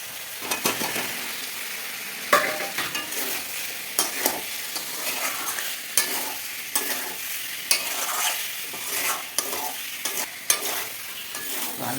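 Potatoes fry and sizzle in a pan while being stirred, a continuous loud sizzle broken by frequent scraping and clattering strokes of the spoon.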